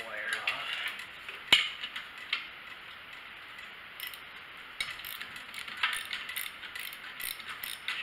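Ratchet clicks sound up close as a bolt is loosened on a gas-powered Miller welder, with a sharp snap early and then quiet intermittent ticking bursts over a faint background.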